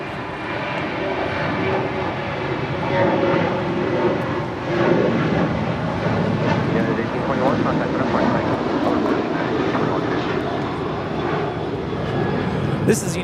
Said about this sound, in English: This is United 1821 departing to Denver, Colorado on a 737-900ER.